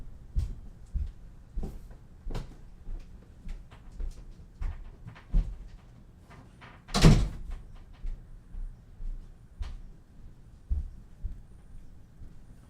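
An indoor door is shut with a single loud thud midway through, set among softer, recurring thumps and knocks in a quiet room.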